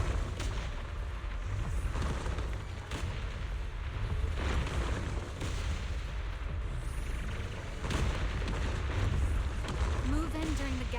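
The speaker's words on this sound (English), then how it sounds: "Move in during the gaps between explosions." Repeated explosions in the video game Zenless Zone Zero during a fight near a reacting cocoon, heavy booming bursts over dense battle noise and music, with voices talking intermittently.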